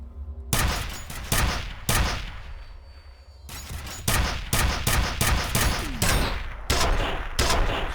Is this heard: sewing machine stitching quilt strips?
no